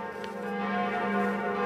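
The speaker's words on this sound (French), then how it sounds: "les cloches de Notre-Dame ont sonné 88 fois pour les 88 années de vie du pape" Church bells of Notre-Dame in Paris ringing in tribute to the late pope, a sustained resonant peal with rich humming overtones, steady and loud, alone without voices.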